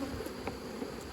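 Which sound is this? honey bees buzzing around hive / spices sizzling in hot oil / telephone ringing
honey bees buzzing around hive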